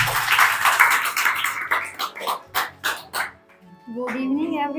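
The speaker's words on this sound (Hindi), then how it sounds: "उनके लिए ताली बजाइए" Applause from an audience gathered at a Hindi speech event, a run of claps that swells and then thins out into separate bursts before a voice starts speaking.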